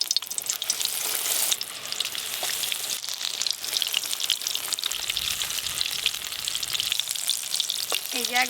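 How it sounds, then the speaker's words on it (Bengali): Besan-battered tapse fish pakoras fry in a kadai of hot oil, giving a dense, steady crackling sizzle close by that fills the whole stretch with no talking. "ডুবাবো আর গরম তেলে ছাড়বো।"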